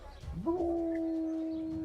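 A dog in the medieval role-playing game Kingdom Come: Deliverance lets out a single long, steady howl that rises at the start and then holds level, loud and close.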